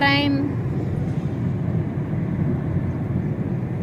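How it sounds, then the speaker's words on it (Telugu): A passenger train bound for Bengaluru rolls past near the hills at Roddam, making a loud, steady broadband rumble that holds for several seconds, with a brief voice at the very start. "బెంగళూరుకి వెళ్ళే ట్రైన్."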